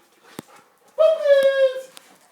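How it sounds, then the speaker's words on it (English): Puppies give a drawn-out, high whimpering whine lasting under a second, close and fairly loud, with a few soft yips and faint noises around it. "Puppies!"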